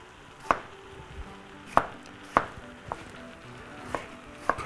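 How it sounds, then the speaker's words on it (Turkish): A knife chops vegetables for Imam Bayıldı on a cutting board, giving six or seven sharp, separate knocks at uneven intervals, close and fairly quiet against a soft kitchen background, with no talking. "Yine aynı şekilde doğruyorum."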